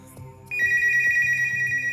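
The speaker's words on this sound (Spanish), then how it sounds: "¿Teléfono?" A telephone rings with a steady electronic tone that starts abruptly and holds loudly, over faint rhythmic background thumps, with no voices.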